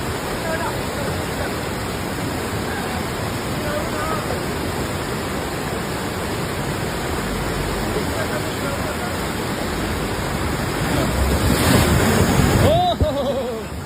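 A swollen mountain stream in Sankhuwasabha, Nepal, rushes loudly and steadily throughout, a dense close roar of water with wind buffeting the microphone and a voice briefly heard near the end.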